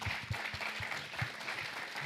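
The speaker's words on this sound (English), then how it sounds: "Can we just get a round of applause for James?" An audience applauding James at a founders' event, a soft, distant wash of many clapping hands that stays steady throughout.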